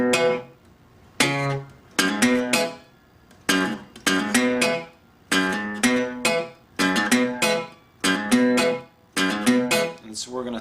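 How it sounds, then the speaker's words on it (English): An electric guitar plucks a fast repeating blues lick in the Delta style, sharp note clusters recurring in a steady rhythm, close and moderately loud with no talk over it. "4 notes of that will sound like this."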